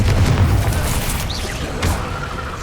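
Bombarda and Confringo explosion spells boom in a Hogwarts Legacy fight, a loud continuous wash of low rumbling blasts and crackling debris with no clear gaps.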